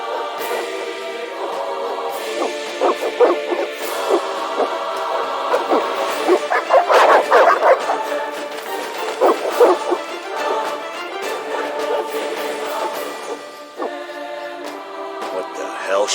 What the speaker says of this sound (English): They're evil dogs.